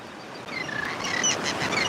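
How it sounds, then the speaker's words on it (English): Birds chirp faintly outdoors in scattered, distant calls over a soft background hiss, with no one talking. "The birds are going crazy right now."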